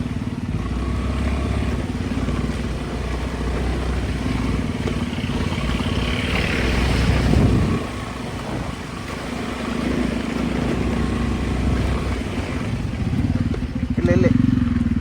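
A scooter engine drones and clatters while riding an off-road hill track at Kyatanmakki hills, loud and continuous with bumps and rattles, and voices talk over the ride.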